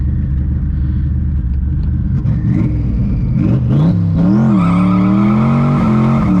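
A 900 HP turbocharged Ford SVT Cobra launches hard from a dig, engine droning low, then tires squeal as revs climb sharply into a loud, rising wail near the end.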